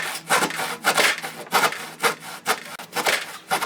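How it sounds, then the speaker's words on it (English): Handsaw cutting through a wooden board, trimming it from 24 by 24 inches down to 20 by 20 inches; steady back-and-forth rasping strokes, about two per second, close and clear with no talk. "You can use a handsaw like I was doing there."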